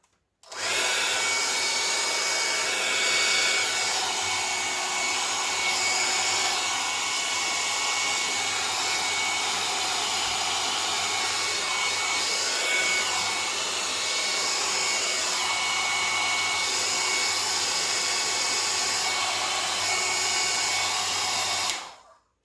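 A hair dryer blows continuously at close range for about twenty seconds, a loud, steady airy whoosh with a low hum, used to dry a watercolor painting.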